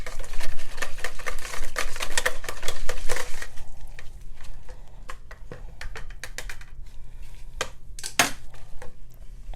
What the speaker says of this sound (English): Right, I whisk it in.